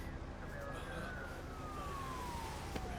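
A police siren wails in a long, slowly falling tone, steady and moderately loud over a dense bed of street and crowd noise.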